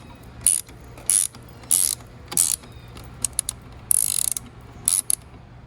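A 7mm Allen key works tight bolts loose on a Can-Am Spyder, giving close, sharp bursts of metallic ratcheting clicks in short repeated strokes separated by brief pauses.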